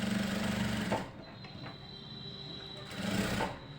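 A sewing machine runs in two short bursts while stitching the bodice of a ready-made kurti being refitted, each burst a quiet, close, steady whir with a pause between.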